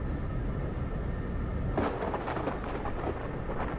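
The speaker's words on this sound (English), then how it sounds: "Yes, I agree, ominous thunder and lightning." Ominous thunder rumbles inside a fantasy strategy video game, a deep continuous roll under rain with a sharper crack midway, loud and alone.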